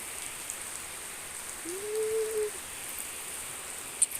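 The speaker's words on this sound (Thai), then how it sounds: "ฝนตกเห็นไหม" Soft, steady rain patters in the background, with a brief faint tonal whine rising midway and a small tap near the end.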